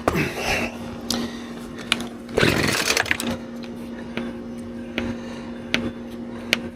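A string trimmer with a 7-spline part fitted, being started: a few bursts of pulling and rattling clatter, then a steady engine hum carrying on at moderate loudness with small mechanical clicks on top.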